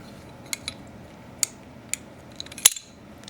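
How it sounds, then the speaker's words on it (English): Taking apart a Star 9mm pistol and working the barrel bushing out, giving sparse, sharp metallic clicks and scrapes, with one louder clack near the end, in a quiet room. "You put that to the angle to get the bushing out."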